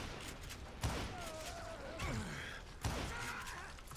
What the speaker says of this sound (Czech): Proč nikoho nevidím a oni na mě furt střílí?